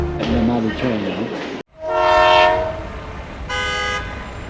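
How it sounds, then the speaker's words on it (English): A train in England passes close by and sounds its horn in loud, sustained tooting blasts over the heavy rumble of the rail cars, with a second shorter horn note near the end. "And another train now."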